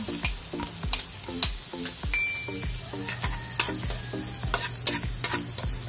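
Garlic sautéing in a pan, a steady sizzle broken by repeated scraping strokes of a utensil, close and fairly quiet, with no voices.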